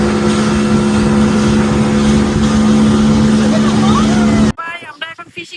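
A motorboat engine drones loud and steady on the Arabian Sea with water rushing beneath, then cuts off abruptly as a voice takes over near the end.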